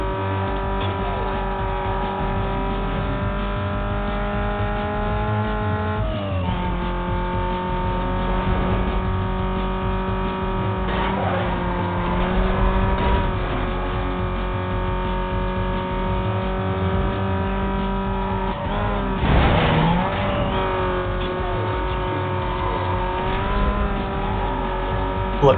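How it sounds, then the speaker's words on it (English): Race cars in the video game Need For Speed Most Wanted drive hard, a steady loud engine whine that shifts pitch through gear changes, with a brief tire squeal near the end. "Guys, are you gonna race me or are you just driving?"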